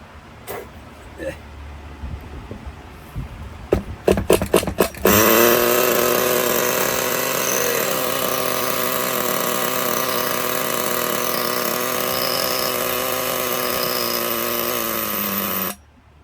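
A roughly 20-year-old Duratrax Axis Torq 3.5 nitro RC buggy engine fires up after a few sharp pull-start tugs, then settles into a loud, steady high-pitched buzzing idle for about ten seconds before cutting out abruptly.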